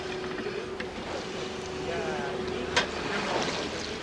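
A 200-horsepower compressor drones aboard the research ship Calypso, a constant low hum running beneath wind and sea wash, with a sharp knock near the end.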